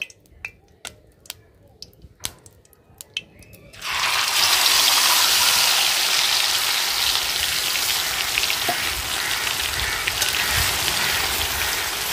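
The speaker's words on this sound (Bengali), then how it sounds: "এখন দিয়ে দেব ম্যারিনেট করা মাছ" Marinated fish dropped into hot ghee in a wok bursts into a loud, steady sizzle that carries on continuously after a few sharp clicks and taps, close and dominating.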